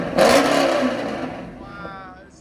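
A 2013 Chevy Camaro SS with a 6.2L V8, long tube headers and a Corsa Extreme exhaust revs hard in one loud, close burst that fades away, with a person talking.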